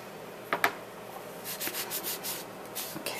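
Dry, soft rubbing over embossed cardstock as distress ink is wiped off the raised areas, with a couple of quick scuffs and then a run of gentle brushing strokes, close and quiet.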